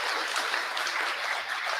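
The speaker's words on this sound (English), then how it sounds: "I just, again, want to give a round of applause to our students" An audience claps for students at an education festival, with dense, steady applause close by for a couple of seconds and no speech over it.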